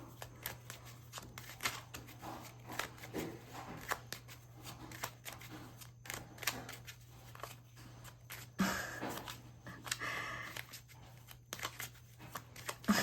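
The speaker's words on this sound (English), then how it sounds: "I'm shuffling for forever." Tarot cards are shuffled over and over, giving quick riffling and tapping bursts at an uneven rhythm, close and fairly quiet, with a low steady hum underneath.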